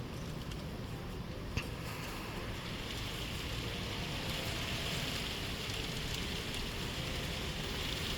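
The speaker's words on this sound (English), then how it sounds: "Jeez, it's really raining hard." Hard rain and strong wind in Okinawa, Japan, a dense, steady hiss of downpour with a blustery rush running throughout, evenly loud and without talk.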